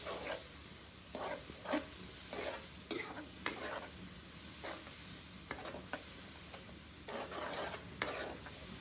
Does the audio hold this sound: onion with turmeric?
yes